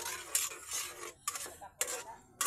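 Spaghetti stirred in a smoky pan, a utensil scraping and rasping against the metal in repeated strokes, close and fairly quiet with short sharp clacks between strokes.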